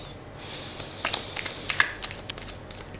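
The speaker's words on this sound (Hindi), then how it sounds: "हमने डेक को आधा किया, आप देखें हमारे पास ये 2 कार्ड्स आए" A tarot deck being cut in half and handled, giving soft, close riffling and crisp card flicks in short clustered bursts over a quiet room.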